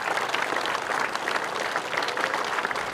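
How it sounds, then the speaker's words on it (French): A crowd applauds a 99-year-old veteran at a 2023 commemoration of the Provence landings, with dense, steady clapping that holds at an even level throughout. "J'aimerais qu'on vous applaudisse aussi."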